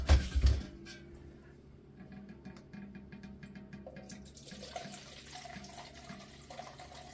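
Cinnamon-infused apple pie moonshine is poured out of an upended pot: a loud splashing gush at first, then a thinner, steadier trickle of liquid that runs on quietly.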